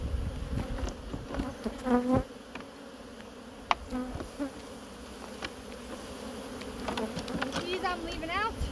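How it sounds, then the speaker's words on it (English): Honey bees buzzing around an open hive during a hive split, a dense close-up hum with individual bees whining past, under occasional handling noises. "Just trying to put those bees back in there."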